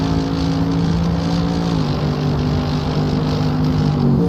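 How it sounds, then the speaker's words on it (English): Loud, steady roar of GT3 race car engines at the Silverstone circuit in a racing sim game, several sustained engine tones shifting pitch together with no pauses for the whole stretch. "You can just hear how loud these cars are."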